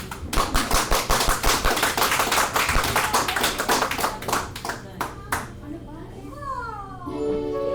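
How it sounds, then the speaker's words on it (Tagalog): An audience at a Filipino community show in Chicago claps in a quick, even burst of hand claps, loud and close for about five seconds before fading out as voices and a rising tone take over. "Pwede po ang pumalakpak."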